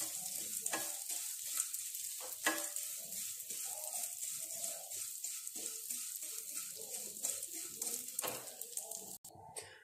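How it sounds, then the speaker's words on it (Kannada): Vermicelli fries in hot ghee with a steady, soft sizzle while a spoon stirs and scrapes the pan at intervals, close by and without talk. "ತುಪ್ಪ ಬಿಸಿ ಆಗಿದೆ ಈಗ ಶಾವಿಗೆ ಹಾಕ್ತೇನೆ ಶಾವಿಗೆಯನ್ನು ಚೆನ್ನಾಗಿ ಹುರಿಬೇಕು"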